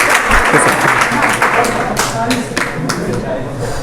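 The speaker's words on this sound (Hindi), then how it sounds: "ताली बजा विनीत के लिए" A classroom of students claps for a classmate during a monthly test result announcement, a dense, steady burst of applause throughout, with a voice speaking over it.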